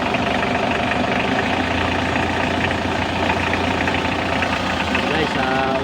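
Mitsubishi L300 2.5 diesel engine from 2009, running after a cylinder head gasket and head replacement: a steady, loud, rough idle with rapid knocking clatter throughout, and a voice talking over it.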